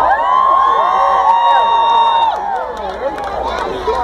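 A large outdoor crowd cheers and screams at the 2015 Pan Am Games torch relay in Etobicoke, Toronto, loud and close, with high whoops and children's shrieks that ease slightly toward the end.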